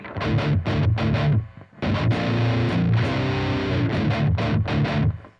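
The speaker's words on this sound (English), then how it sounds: "It gets to be a little bit muddy, a little bit flubby" Overdriven electric guitar with the low cut off, giving a thick, boomy low end, strummed chords ringing loudly with a short gap, sounding muddy and saturated.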